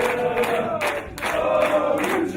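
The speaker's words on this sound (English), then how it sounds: "Crowd chanting Lucha Forever." Wrestling crowd at a Kip Sabian versus Angelico match chanting Lucha Forever, a loud rhythmic mass of voices swelling in repeated pulses, close and dense throughout.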